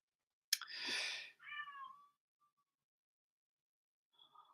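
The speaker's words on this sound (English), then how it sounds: "My cat wants to come in" A cat gives two clear meows close by, a long one followed by a shorter one, then a faint chirp after a pause.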